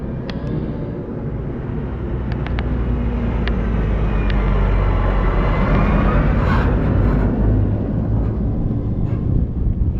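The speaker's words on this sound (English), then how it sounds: "There's a tractor coming full of cut grass for silage" A farm tractor loaded with cut grass for silage rumbles past, a heavy low engine drone that builds and stays loud and near, with wind buffeting the microphone and no talking.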